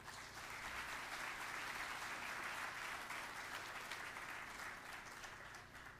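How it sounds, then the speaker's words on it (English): Sustained audience applause at an excellence celebration event, a broad, even roar of many hands clapping that holds steady and tapers slightly toward the end. "let's give yourselves a round of applause"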